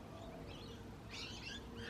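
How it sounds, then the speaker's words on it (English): Birds chirp and sing in a cottage garden on a May morning, faint and somewhat distant, with a brighter burst of calls over soft outdoor background noise. "You can hear all the birds this morning."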